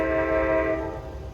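NJ Transit train sounding a Nathan K5LA horn, one loud sustained chord held close by for over a second before starting to fade.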